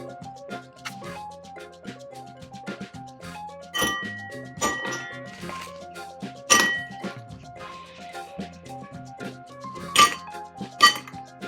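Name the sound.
ice cubes clinking into a glass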